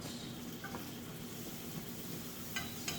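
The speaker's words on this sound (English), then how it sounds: "So we just want to stir for at least like 2 to 3 minutes." Tunisian-spiced meatballs sizzle steadily in a pan while a utensil stirs them, the frying hiss constant and fairly soft with a few faint scrapes and clinks, no talk.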